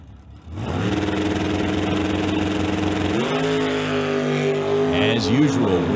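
A drag racing car, the Nova, launches hard off the line with a loud, sustained engine roar that climbs in pitch as it pulls away. It is joined by a second engine and an announcer talking over the noise.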